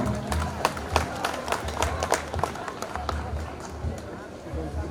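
Clapping from a crowd at a public gathering in Kolar district, Karnataka, a dense patter of many hands with scattered louder claps and some cheering and voices throughout.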